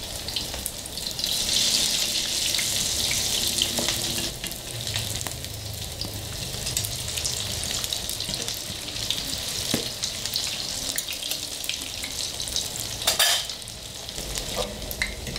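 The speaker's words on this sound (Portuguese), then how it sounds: "começou a fritar de um lado, nós vamos virar" Corn fritters frying in hot oil, a steady sizzle running throughout with occasional clinks and stirring, close up and alone without speech.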